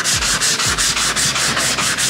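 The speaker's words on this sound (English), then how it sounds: "I'm just gonna sand the tops." Sandpaper worked over the tops of wooden shiplap pumpkin pieces gives loud, close, rhythmic back-and-forth rasping, about nine quick even strokes in steady succession with no voices.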